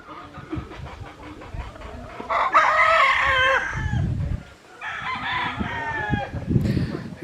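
At a chicken ranch in the mountains of Bamban in the Philippines, roosters crow loudly and nearby, one after another, over a background of clucking hens and other farm noise.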